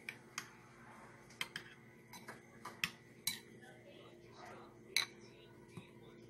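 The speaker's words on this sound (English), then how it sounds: "Dinihalo natin yung dressing sa cabbage, carrot, mango, and raisins." Coleslaw dressing is tossed with shredded cabbage, carrot, mango and raisins, giving sparse clicks and soft scrapes of utensils against a bowl at an uneven pace, close and quiet.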